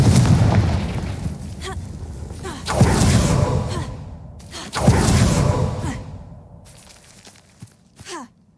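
Confringo fire spell exploding in the Hogwarts Legacy game: two loud, close booming blasts a couple of seconds apart, each fading into a rumbling tail, followed by a smaller sharp burst near the end.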